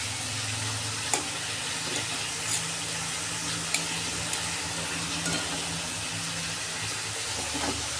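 Bitter gima (tita) greens stir-frying in a pan, a steady close sizzle with a few soft clicks and scrapes from stirring, no talking.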